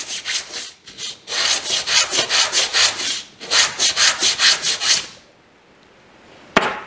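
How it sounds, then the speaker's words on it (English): Rhythmic scratchy strokes of sandpaper rubbing burrs off an injection-molded plastic part, close and steady, pausing briefly midway, then stopping with one sharp tap at the end. "it doesn't take that much sanding to get rid of the burrs"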